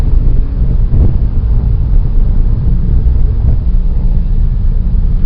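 A Porsche 997.1 S with a 4.1L engine is driven, its steady low rumble heard from inside the car under heavy wind buffeting, loud and continuous throughout.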